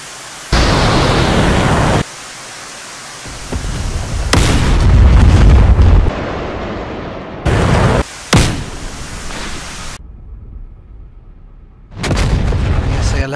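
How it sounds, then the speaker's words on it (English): Missile launches and heavy explosions in a combat flight game, with cluster missiles and a HARM anti-radiation missile fired: loud roaring whooshes and booming blasts that cut in and out abruptly, with a low rumble between them. "He's fired the two missiles clusters, and he's going to follow up with the HARM anti-radiation missile."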